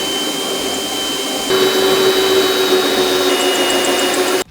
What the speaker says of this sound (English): Just trying to drill a couple holes in our brand new boat.